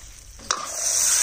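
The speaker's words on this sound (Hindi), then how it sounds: "लो जी हुण आपां नाल हुंदे पानी पा देंगे।" Water is poured into semolina roasting in a pan, producing a sudden hiss that swells into a steady, bright sizzle, close and alone after a faint stirring scrape.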